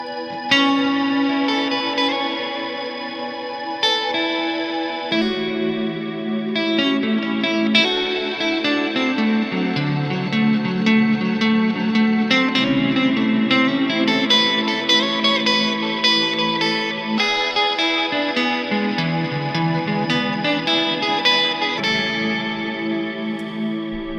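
A Strymon NightSky reverb pedal's sequencer steps through a 1-4-1-5 chord progression, a steady loud wash of shimmering, chorus-like tones with long reverb tails and occasional distorted edges, continuous with no talking.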